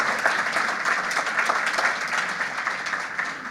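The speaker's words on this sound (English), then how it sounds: "Let's give another well-deserved round of applause to Tristan Huff for his incredible leadership, vision, and heart" Audience applause at a distinguished citizen award ceremony in a hotel venue, a steady, dense wash of clapping from a sizable crowd, loud and unbroken.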